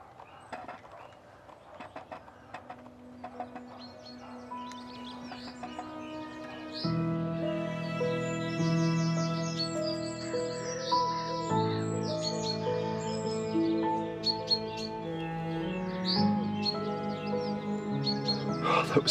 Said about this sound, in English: nuthatches on the far tree over there